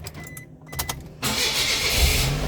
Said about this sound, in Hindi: शुक्र है अल्लाह, मेरी गाड़ी स्टार्ट हो गई।